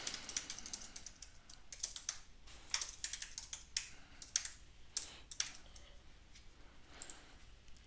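Computer keys are typed in irregular bursts of crisp, quiet clicks, close up, with short pauses between runs of keystrokes.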